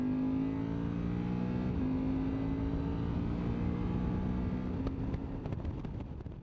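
A BMW GS motorcycle with a quick shifter accelerates hard on a highway, a steady loud engine drone climbing in pitch with quick, smooth gear shifts and continuous wind and road noise.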